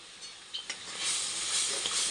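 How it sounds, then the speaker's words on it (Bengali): Curry broth boiling in a pan gives a soft, steady sizzling hiss that swells after a couple of faint clicks, with no talking over it. "এখানে দেখো ঝোলটা ফুটছে"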